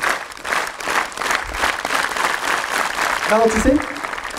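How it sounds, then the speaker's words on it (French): Audience at a science talk claps together in time, a rhythmic wash of hands that slows on instruction, while a voice speaks over it near the end. "Alors voilà, vous allez applaudir."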